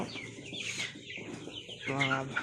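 Chickens, including white hens and desi birds, cluck close by in a small dusty coop, with short broken calls building to a louder, rhythmic clucking burst near the end.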